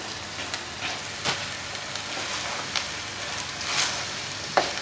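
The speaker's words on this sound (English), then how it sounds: "now I'm going to add my green chilies and crushed ginger at this stage" Keema curry of minced meat frying in a pan with green chilies and crushed ginger, a steady close sizzle with occasional sharper crackles and pops.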